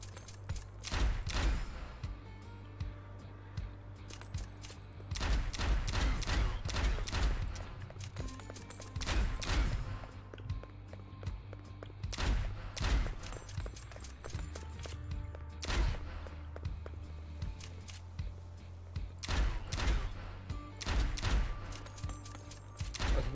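Repeated bursts of game gunfire from the first-person shooter Kill The Crows, several dense volleys spaced through the stretch with a steady low hum underneath, no one talking.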